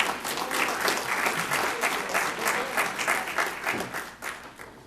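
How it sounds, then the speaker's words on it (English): An audience at an evening community preparedness forum claps in sustained, dense applause, loud and continuous, easing slightly toward the end. "Give her a round of applause."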